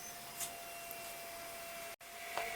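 A retro Pentium 200 Windows 98SE PC runs with a steady fan whir and faint tonal hum, like a small vacuum cleaner, with a brief dropout near the middle and no talk.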